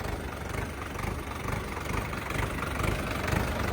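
A tractor with 1,974 operating hours idles steadily at close range, a continuous low rumble with a faint rhythmic chug and no voices.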